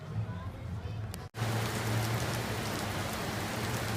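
Steady rain pours down on a Florida outing, a dense hiss of drops on surfaces with a low rumble underneath. A brief dropout breaks it midway, and faint voices sit in the background.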